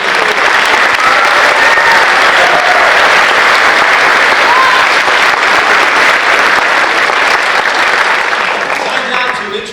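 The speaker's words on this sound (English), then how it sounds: "let's give a round of applause to our 20." Sustained, loud audience applause fills a hall during a college sports hall of fame ceremony, dense clapping holding steady throughout before tapering slightly at the end.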